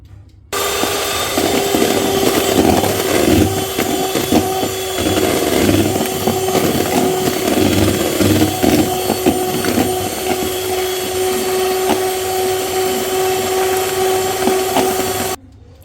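A continuous electric mixer drone beats cloud cake batter with vanilla, loud and even with slight rattling fluctuations, starting and stopping sharply.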